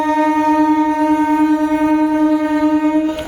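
A train being shunted from the platform onto a loop line sounds a long, loud, steady horn blast for about three seconds, its rich harmonic tone holding level before a slight dip at the end.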